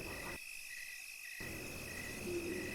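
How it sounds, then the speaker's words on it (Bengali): Crickets chirping on a dark, quiet village road at night, a steady faint high-pitched trill with a briefly muffled stretch, with no voices. "ঝিঝি পোকাদের ডাক আজ খুব আগ্রহ নিয়ে শুনছি।"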